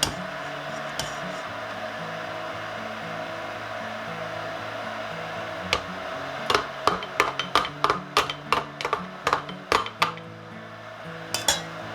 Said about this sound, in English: And I really pack the cabbage mixture down in there.